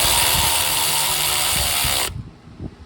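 A cordless impact tool runs fast on a thermostat housing bolt of a 2010 Dodge Challenger SRT8 6.1, a loud, steady mechanical whirr for about two seconds that stops abruptly, followed by faint handling clicks.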